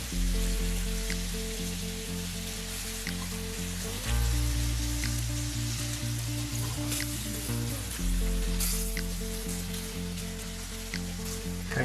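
Steady crackling sizzle of stock hitting a hot pan while deglazing during a creamy chicken Pollo alla Panna recipe, a dense continuous hiss and spatter with a low hum underneath and no talking.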